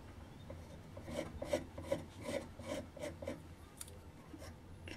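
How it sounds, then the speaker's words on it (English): A knife blade scraping wax filler flush on a wooden colour-pencil goblet, a quiet run of about eight short rasping strokes in a regular rhythm, close and alone. "So you just run your knife over the top. And we just scrape it away"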